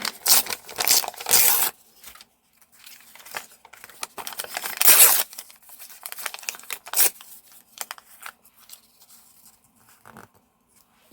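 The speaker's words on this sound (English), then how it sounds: "So let's tear some of that." Packaging paper being torn by hand for collage makes close, rasping rips in several bursts, mixed with crinkling and quieter rustles between tears, with no talking.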